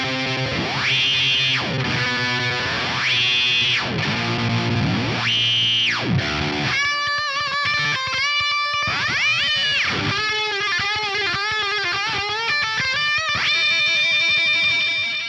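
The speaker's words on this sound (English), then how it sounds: "as you turn the pedal from the heel down to the toe down position, you'll get this runaway spaceship style noise." A ring modulator swept by an expression pedal produces warbling, sweeping runaway-spaceship noise, with pitches gliding up and down and metallic tones shifting continuously at a loud, steady level.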